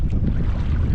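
Wind buffets the microphone out on the water during a fishing trip under clouding skies, a loud, steady low roar filling the full second.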